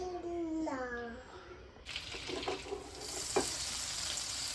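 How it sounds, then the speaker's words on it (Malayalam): Butter melting in a pan for kunafa, a steady hiss of sizzling that comes up suddenly partway through and carries on with a few louder crackles, preceded by a brief wavering tonal sound. "നമുക്ക് ആദ്യം കുറച്ച് ബട്ടർ മെൽറ്റ് ചെയ്തെടുക്കാം കുനാഫിക്കകത്ത് വേണ്ടിയിട്ട്"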